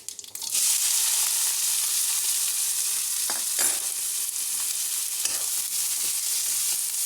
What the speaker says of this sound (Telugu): లైట్ గోల్డ్ కలర్ వచ్చే వరకు ఫ్రై చేసుకున్నాము ఆనియన్స్.